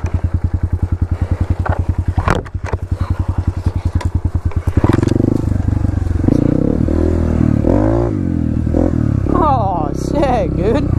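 A dirt bike engine on a Nebraska trail ride pulses in loud, rapid, close firing beats, then gives way to heavy wind rush and a steady engine drone while a rider talks.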